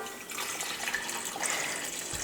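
Warm water for bread dough poured into a mixing bowl, a soft, steady splashing trickle that runs continuously for a couple of seconds at low volume.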